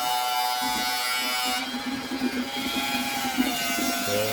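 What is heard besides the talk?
tankless water heater flush pump switched on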